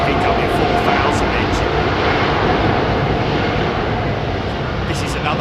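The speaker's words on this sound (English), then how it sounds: "This is the Pratt & Whitney PW4000" Airbus Beluga XL departing Heathrow Airport on Pratt & Whitney PW4000 engines, giving a loud, steady broadband jet roar that fills the whole stretch with no break.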